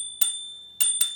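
Three bright, metallic bell dings sound close by from an electric scooter's bell, a single strike followed by two quicker ones.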